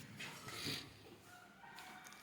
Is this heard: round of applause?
no